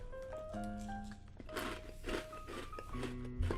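Close, mouth-level crunching of Oat Crunch Almond Cheerios cereal comes in several dry, crackly bursts over faint background tones, with no talking.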